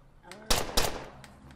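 Pistol shots in the zombie survival game State of Decay, two sharp, loud reports about a quarter second apart, followed by fainter clicks and thuds.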